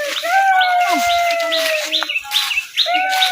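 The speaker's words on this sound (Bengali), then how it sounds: "এর মাথার উপরের বকগুলো সাই সাই করে আওয়াজ করছে" Herons calling from a busy heronry overhead, a chorus of rasping, squawking cries with repeated tonal calls overlapping close by, steady and continuous with no talk.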